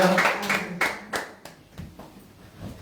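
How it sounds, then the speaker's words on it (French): Worshippers in a church applaud the word of God, starting as a loud, dense burst of clapping that breaks into scattered claps and fades out within a few seconds. "Applaudissons la parole de Dieu"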